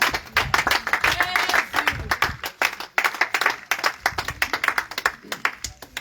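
A church congregation in Grand-Bassam claps and applauds in a loud, dense burst of many hands, swelling and fading in waves over several seconds, with voices mixed into the crowd.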